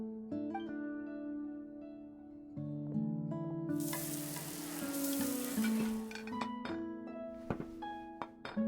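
Food sizzling and frying as a meal is cooked in a video game, a broadband hiss swelling over about three seconds in the middle, with tonal game music playing steadily throughout.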